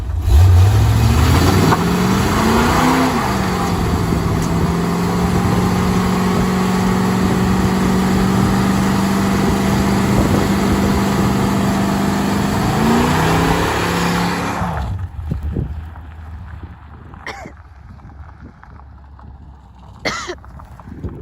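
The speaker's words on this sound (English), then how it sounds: "I'm gonna look for a spot where we can let some smoke out of these tires" A Chevrolet C4 Corvette, worn and low on tires, roars through a sustained burnout, engine revving hard and holding high for about fourteen seconds, then cutting off and settling to a quiet rumble with a couple of small sharp noises.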